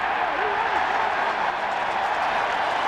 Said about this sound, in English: And the cheer, of course, is because they threw the ball back.